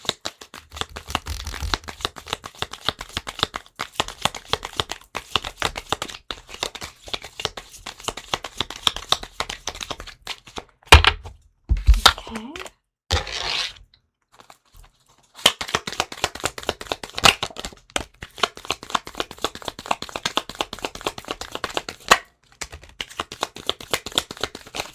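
Tarot cards are shuffled by hand in quick riffling bursts, close and crisp, with brief pauses and a few louder taps partway through, no talking.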